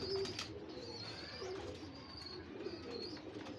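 Pigeons coo softly in low, throaty bursts, repeating several times against a steady background hum, with faint chirps in between.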